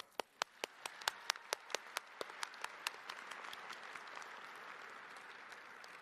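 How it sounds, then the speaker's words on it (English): A graduation ceremony audience bursts into applause: a few distinct loud claps at first, quickly swelling into a dense, sustained round of clapping from many people that continues steadily to the end. "Graduates, please join me in a well-deserved round of applause for all our loved ones."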